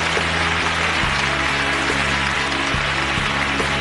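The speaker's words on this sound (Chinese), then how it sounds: "现在掌声有请" A studio audience on a Chinese television job-hunting show claps in a steady, dense wash of applause that runs through the whole stretch. A low, sustained musical hum sits underneath it.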